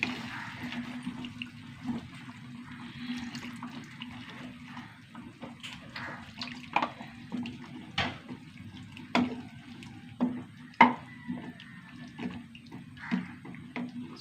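Tap water runs while a blender jar is rinsed in a kitchen sink, a soft splashing wash broken by sharp knocks and clatters of the jar, moderately close with no voices.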